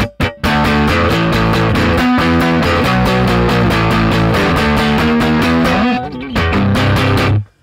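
An electric guitar played through a Blues Blaster Distort amp preset in Logic Pro rings out in strummed, distorted chords with a brief pause near the start and a break near the end.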